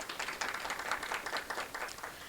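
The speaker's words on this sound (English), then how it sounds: "please give her a round of applause." An audience applauds for a realtor at a Black homeownership event in Minnesota, giving a faint, steady patter of many hands clapping for a couple of seconds.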